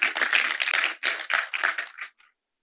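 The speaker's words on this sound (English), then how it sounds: "Can we get another round of applause?" Brief round of applause at an EAGxNigeria 2025 conference talk, a burst of many hands clapping at moderate loudness for about two seconds, then stopping abruptly into silence.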